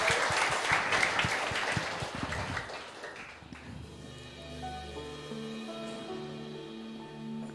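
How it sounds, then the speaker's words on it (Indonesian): A church congregation applauds, a burst of many hands clapping for about three seconds that fades out as sustained keyboard or organ tones take over. "Tepuk tangan buat Tuhan Yesus."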